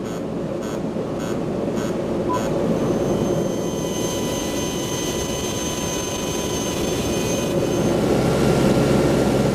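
Loud, steady roar of a C-130 military transport aircraft's engines, heard from inside the fuselage as a constant drone with a whining tone, no voices.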